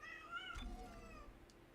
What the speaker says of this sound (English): Yeah, scream all you want, cat.